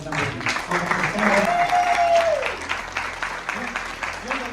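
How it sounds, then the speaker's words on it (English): An audience at a university film festival awards event applauds, a dense patter of clapping from a crowd indoors, steady for a few seconds, with a voice speaking over it. "We'll give them an applause."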